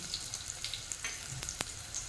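Chopped garlic and onion fry together in oil with a soft sizzle, small crackles and a few sharp pops, faint, close and brief, with no talk.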